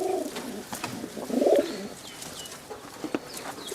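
Pigeons of a fancy breed coo in a low, soft burst around the middle, with faint bird chirps scattered through a quiet background.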